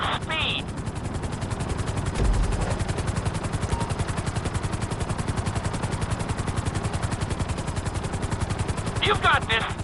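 A helicopter in GTA 5 keeps up a steady, loud rotor chop throughout a flight course, with brief higher electronic chirps at the start and end.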